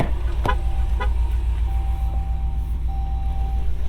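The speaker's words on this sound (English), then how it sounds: "Listen to that V8 motor." The V8 engine of a 2022 Jeep Grand Wagoneer idles as a steady low rumble heard from inside the cabin, with a couple of faint clicks near the start and a soft electronic tone behind it.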